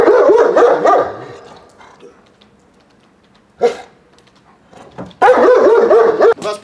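A mature East European Shepherd, eight years old, barks in deep, loud bursts near by: one volley at the start, a single short bark midway, then another strong burst near the end, with quiet stretches between.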